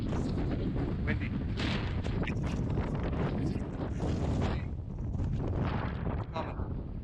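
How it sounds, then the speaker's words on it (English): Strong wind buffeting a microphone on a Long Island beach during heavy Hurricane Erin swells while surf fishing, a constant loud roaring rumble with gusty flutter throughout, no pause. "Windy."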